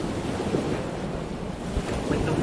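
Ocean surf and gusting wind rush steadily with a low rumble of breaking waves and buffeting wind noise, continuous and fairly loud with no one speaking.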